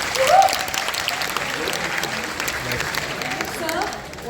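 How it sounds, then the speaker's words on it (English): Applause from a studio audience at an interview, a steady wash of clapping that runs through the whole stretch at moderate loudness, with faint voices mixed underneath. "Tanu, you definitely deserve applause."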